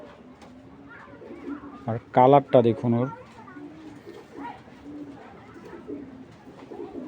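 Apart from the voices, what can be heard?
racing pigeons cooing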